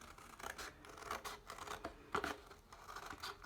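Scissors snip through paper while a fish shape is cut out for a kids' craft, quiet irregular cuts and rustles at close range with no talking.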